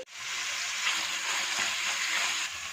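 Chicken frying in hot oil with ginger garlic paste for fajita-style taco filling: a steady, dense sizzle, close and fairly loud throughout, with no speech.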